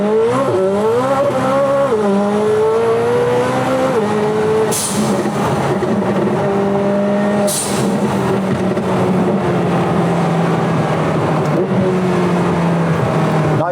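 A McLaren 720S GTR accelerating hard on a road test, engine note climbing through gears with shifts, loud and close, with brief tire squeal bursts as the wheels spin.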